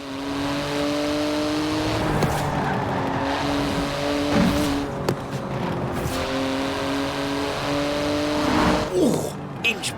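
A Porsche 911 GT2 driven in the racing game Forza Horizon 4, engine revving up and down through gear changes with tire squeal, while someone talks over it.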